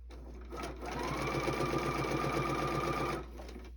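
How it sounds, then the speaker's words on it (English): A sewing machine runs a steady stitch along a tea towel seam with an open-toe quarter-inch foot, a close, even whir lasting about three seconds with no talking. "So that gives me a relatively straight point to stitch from."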